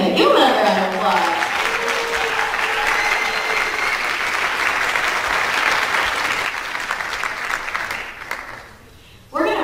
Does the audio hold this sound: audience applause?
yes